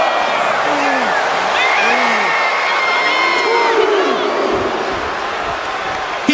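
Virtual arena crowd in the WWE 2K25 wrestling game roars and cheers steadily throughout, with rising whoops and shouts that stand out above the dense, continuous crowd noise.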